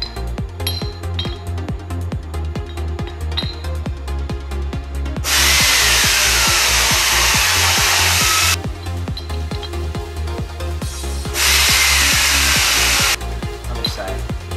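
A power tool trims a part for a locked limited-slip differential on an RX-7 FC, with loud bursts of high grinding between stretches of rhythmic mechanical chatter, up close.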